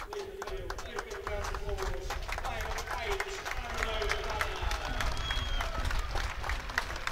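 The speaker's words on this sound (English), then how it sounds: "They're getting a thunderous applause from the Kettering faithful." Kettering Town football fans give a save a thunderous round of applause, dense crowd clapping and cheering that holds steady for several seconds beneath a commentator's voice.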